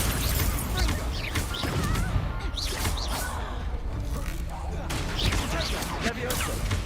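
Spell effects in a Harry Potter video game: dense bursts, crashes and whooshing blasts over a constant busy backdrop, with a voice speaking at times.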